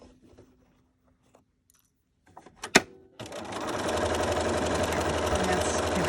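A sewing machine stitches a fabric pennant after a few clicks and clunks, then runs in a loud, steady buzzing whir up close for several seconds.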